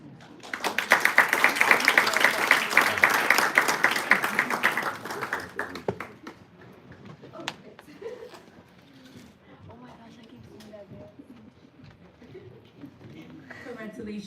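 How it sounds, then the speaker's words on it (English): An audience at a Women's Day district event claps in a burst of dense applause for several seconds, then it fades out as a speaker's voice carries on over faint room noise. "You guys can clap."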